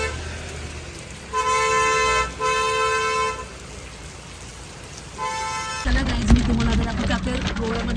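Car horns toot repeatedly in heavy traffic during monsoon rain in Goa, several sustained honks over a steady wash of rain and engine noise, with a louder close rumble near the end.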